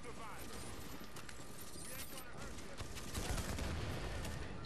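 Gunfire cracks from behind a player in The Division, rapid shots peppering a noisy firefight at modest volume, with a voice talking over it.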